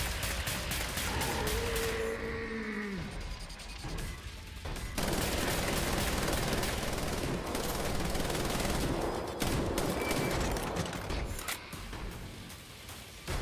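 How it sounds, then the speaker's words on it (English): Rapid chain gun fire in the video game Wolfenstein, a loud, dense and unbroken barrage of shots that runs through the whole stretch, with a brief whining tone near the start. "Is that a chain gun?"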